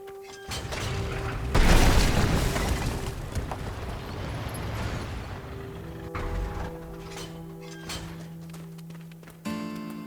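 Rocks are blown up in the Sandland video game with a loud rumbling boom that decays slowly. Mechanical game sounds, faint clatter and a steady background tone follow, then a second, softer thump near the end.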